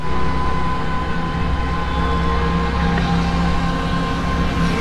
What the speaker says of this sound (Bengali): চলে এলাম নিউ কোচবিহার রেলওয়ে স্টেশনে।